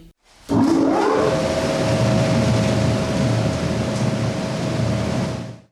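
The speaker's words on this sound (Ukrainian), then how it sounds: "зробили чистку вентиляційних труб і новий вентилятор включили" A newly installed ventilation fan runs in a renovated school basement shelter, a steady loud broadband whoosh with a constant hum that starts abruptly and holds for several seconds, no talk.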